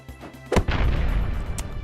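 A single sharp explosion bursts in a video game under development, a sudden close blast followed by a rumbling, crackling tail that lingers and slowly thins out.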